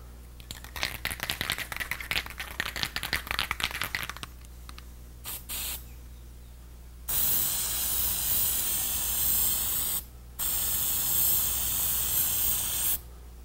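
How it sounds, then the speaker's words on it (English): Crinkling, crackly handling noises lead into two long, loud bursts of Plasti Dip aerosol spray hissing through a dip nozzle, with a short break between them. "we're going to switch it right over to the dip nozzle"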